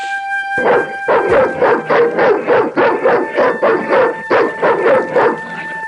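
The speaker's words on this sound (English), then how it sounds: "The dog went berserk for no apparent reason." A dog on a desolate Marseille dockside in the Broken Sword 2 video game barks rapidly and repeatedly, a loud close run of about a dozen rhythmic barks over a steady synthetic tone.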